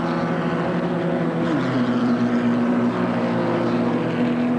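Race cars passing along the short straight toward Toledo corner at Amaroo Park circuit in 1989, a steady loud engine drone with a rising and falling pitch as a car goes by, no speech.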